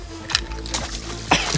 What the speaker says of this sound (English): The old splash attack.